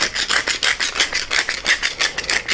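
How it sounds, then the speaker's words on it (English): Hands rub salt and cayenne into raw meat for Wiener schnitzel, giving a steady, close, rhythmic gritty rasping of about a dozen quick strokes with no voices. "I'm going to rub this in a bit"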